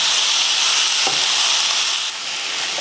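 Tomato sautés with mint, coriander leaves and curry leaves in a pan for chutney, producing a steady, close hiss of frying. A faint stirring knock sounds partway through, and the sizzle eases slightly near the end.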